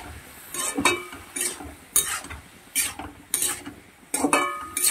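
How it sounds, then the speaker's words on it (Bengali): Spice paste for a fresh pond-fish curry, thinned with a little water, being stirred and fried in a pan. Close, repeated scraping strokes of a spoon against metal come in bursts over a soft steady sizzle, with no voices. "30 সেকেন্ডের মতো মশলাটা নেড়ে ছেড়ে নেবো"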